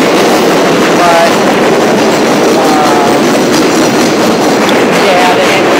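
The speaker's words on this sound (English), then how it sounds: "There's a lot of trains passing by." Trains pass by in a neighborhood, a loud continuous rumble and rush with a faint rhythmic clatter, close and steady for several seconds with no pauses.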